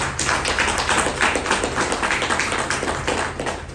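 Seminar audience clapping at a business event in Pakistan, a steady run of fairly close, rhythmic hand claps that pulse evenly for a few seconds with no voices over them.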